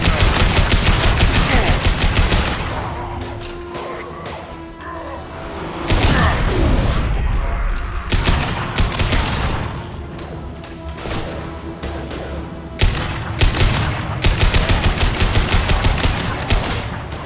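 Gunfire in a Mass Effect 2 combat scene: loud bursts of rapid automatic fire alternate with single heavy shots, crashes and whooshes, with brief lulls between volleys.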